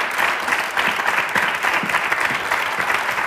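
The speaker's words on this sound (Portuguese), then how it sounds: "Um grande aplauso para os nossos convidados." A studio audience at a Portuguese television show applauds steadily and densely, a full round of clapping that holds throughout without a break.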